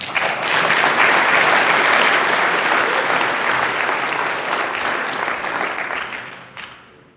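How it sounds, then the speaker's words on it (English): Steady, dense applause from an audience at a closing plenary and awards ceremony, loud and sustained for about six seconds before tapering off at the end. "If we can have a round of applause for them as well, please."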